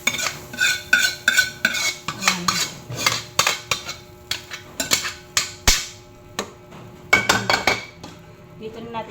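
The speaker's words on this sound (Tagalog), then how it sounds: "Dito na natin siya hahaluin masyado." A metal spoon stirs sautéed mung bean stew in a deep cooking pot, scraping and clinking repeatedly against the sides in irregular bursts, loud and close.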